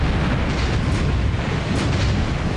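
A battleship hit by a submarine's torpedo in the War Plan Orange naval wargame erupts in a sustained, dense roaring blast, loud and steady throughout with no voices.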